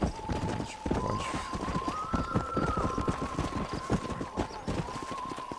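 A horse gallops in the Western video game Red Dead Redemption, rapid rhythmic hoofbeats thudding close and steady beneath a sustained tonal music note, with a voice briefly heard.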